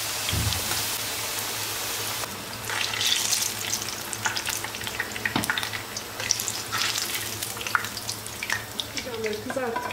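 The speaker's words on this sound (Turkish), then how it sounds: "Şimdi bütün patlıcanları aynı şekilde kızartıp bitireceğim." Steady sizzling of eggplant frying in hot oil, with crackles and pops throughout and a few faint clinks.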